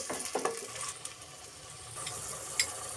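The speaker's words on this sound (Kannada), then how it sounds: "ಇದಕ್ಕೆ ಈಗ ಆನಿಯನ್ ಪೇಸ್ಟ್, ಇದೊಂದು ಸ್ವಲ್ಪ ಫ್ರೈ ಆಗಲಿ." Onion paste frying in hot oil with curry leaves in a pan: a faint, steady sizzle with a few light metallic clinks near the start and one near the end.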